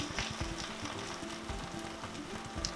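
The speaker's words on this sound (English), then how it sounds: "After it's browned on one side, then simply flip it over" A sourdough scallion pancake fries in a pan after being flipped, giving a steady close sizzle and crackle that runs throughout with no talking.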